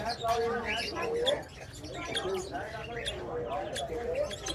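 A blue-rumped parrot breeder male and green or olive breeder female calling, soft warbling chatter and squeaks mixed with someone talking over them throughout.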